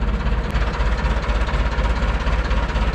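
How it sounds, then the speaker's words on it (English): The engine of a 1980s LULL all-terrain forklift, left sitting for 25 years, runs loud and close with a rough, steady idle and a rhythmic knocking pulse throughout, with no talk. "Time to learn how to drive an 80s forklift."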